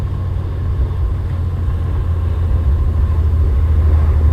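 A 1939 Plymouth Mayflower sedan cruises in second gear on a road, its engine a steady low rumble with constant mid-range road and drivetrain noise, loud and close from inside the car.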